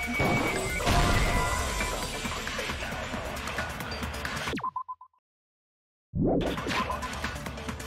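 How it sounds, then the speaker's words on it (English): Window shattering in a video game, a loud crash with scattering debris that decays into a brief ringing tone, then silence before loud game audio resumes. "Heard the sound of the window shattering."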